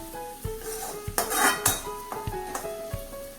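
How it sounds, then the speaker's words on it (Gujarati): Gram flour sautéing in oil in a pan, a spoon scraping and stirring with soft clinks against the metal over a low sizzle, close up and without talk. "ચણાના લોટને સાંતળી લેવાનો તેલની અંદર"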